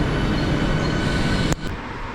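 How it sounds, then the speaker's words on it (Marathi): A train stands at a station platform in Mumbai, giving a steady broad rumble and hiss that cuts off sharply about two thirds through, then continues more quietly. "तिकडं पण ट्रेन लागला त्या साईडला"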